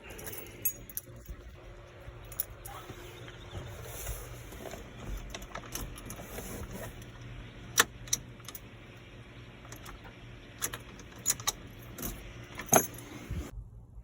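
Keys jangle and clink in sharp bursts while someone fumbles at the ignition of a Jeep Comanche that has wiring problems, close up over a low steady hum, with no speech.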